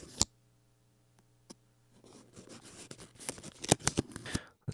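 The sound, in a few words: paper rubbed on a credit card, foley experiment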